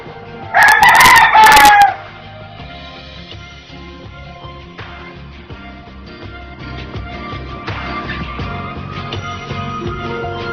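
A rooster crows loudly once near the start, followed by a steady murmur of clucking chickens and pigeons in the background.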